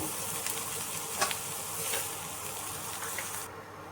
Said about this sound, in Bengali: তো আরও যে বাকিগুলো আছে সেগুলো একটু ভালো করে ভেজে নেব।